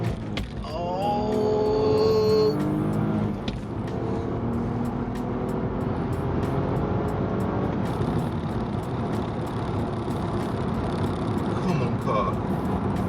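A manual BMW 530i with traction control switched off accelerating hard, a steady loud engine roar building through the run with rising tonal whine, road noise throughout and a voice talking briefly near the start.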